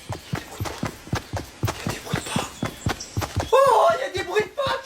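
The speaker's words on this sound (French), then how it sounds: "il y a des bruits de pas" Quick footsteps thudding in a steady rhythm, mixed with other movement noises, while a voice talks over them nearby.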